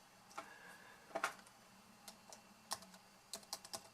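Computer keyboard typing at a desk, a faint, sparse run of clicky keystrokes in small bursts, quiet and close with no talking.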